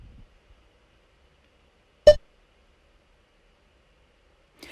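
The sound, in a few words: workout interval timer beep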